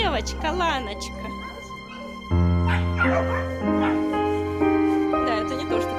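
Dogs at an animal shelter bark, yip and whimper close by in repeated bursts, with people talking over and between the calls.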